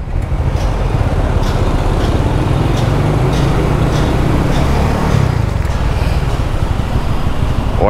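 Dense road traffic jammed on a street, a steady roar of many cars, buses and motorbikes close by, continuous and loud throughout with no voices.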